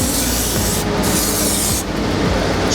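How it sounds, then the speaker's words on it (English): Contact adhesive hisses from a spray can in steady close bursts, with two brief pauses between sprays, loud and alone over a faint low hum. "Contact adhesive. Quite simple. Spray that."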